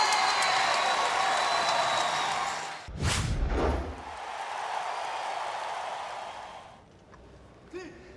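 A stadium crowd at the Birmingham 2022 Commonwealth Games applauds and cheers a gold medal win, a dense roar of clapping that is broken by a sharp thump, then swells again before fading toward the end.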